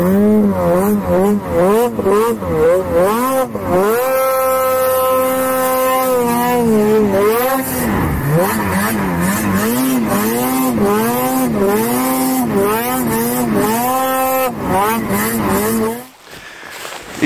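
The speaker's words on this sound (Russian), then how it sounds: "И еще одна существенная доработка этого снегохода — это полный титановый выхлоп." A BRP Ski-Doo Summit 850X snowmobile fitted with a full titanium exhaust revs loudly and close, its engine note rising and falling in repeated throttle blips before cutting off near the end.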